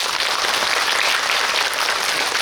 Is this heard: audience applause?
yes